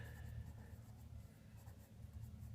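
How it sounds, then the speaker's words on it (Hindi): Pen or marker writing on a board or paper during an accounting lesson, soft scratching strokes in short runs, very faint and close in a quiet room. "यहाँ पे हम लिखते हैं टू बैंक"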